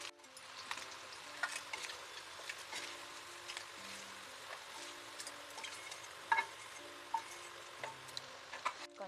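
Meal maker soya chunks frying in hot oil, a soft continuous sizzle with scattered light scraping and ticking from stirring, close and fairly quiet.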